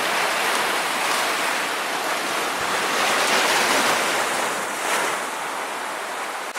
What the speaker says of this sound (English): These waves are starting to push in pretty hard.